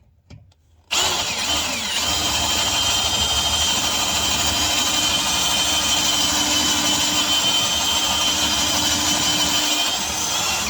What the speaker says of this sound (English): 1/4-inch drill, Home Depot special here